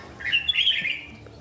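Caged songbirds, seven birds kept in Gia Lai, chirping in a bright burst of quick high tweets and a squawky call, fairly close, lasting about a second with faint background noise and no talk.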